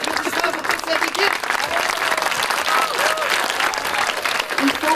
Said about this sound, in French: Une bonne main d'applaudissements pour toute cette équipe.